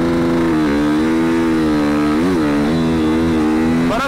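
A motorcycle launching hard from a standstill at a green light with launch control and lifting into a wheelie, its engine roaring loud and close as the pitch climbs steadily through the throttle, with a brief dip before rising again.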